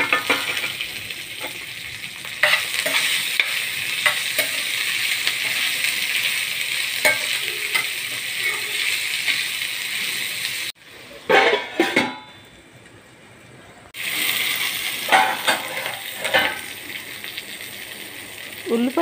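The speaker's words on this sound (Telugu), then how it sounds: "ఉల్లిపాయ ముక్కలు, పచ్చిమిర్చి ముక్కలు కాస్త వేగాక" Onion and green chilli pieces fry in a pan for a pumpkin curry, with a loud, steady sizzle and intermittent scraping as a spoon stirs. The sizzle cuts out briefly partway through and then resumes.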